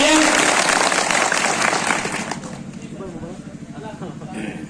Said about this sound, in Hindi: एक जोरदार इन लोगों के लिए तालियां बजाएं आयोजन समिति के लिए।